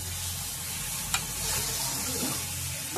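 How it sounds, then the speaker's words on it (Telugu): Seer fish (vanjaram) pieces frying in a pan for fish pulusu, giving a constant close, dense sizzle with a couple of brief clinks and crackles over the steady hiss. "వంజరం ముక్కలు కూడా వేగుతున్నాయి."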